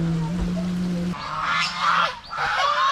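A flock of ducks or geese at a zoo honks and quacks in a flurry of nasal calls, moderately close over an outdoor background hum.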